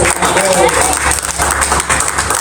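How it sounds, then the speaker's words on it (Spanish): Sustained applause from a crowd, dense steady clapping that fills the whole moment. "Un aplauso, un aplauso."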